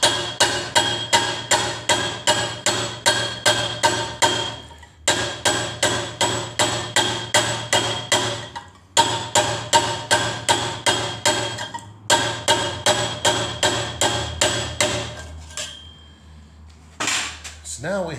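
Steady runs of sharp metallic hammer blows from a Vaughn hammer shaping a copper cup, in four rapid rhythmic bursts separated by short pauses, loud and close, with a few quieter taps at the end.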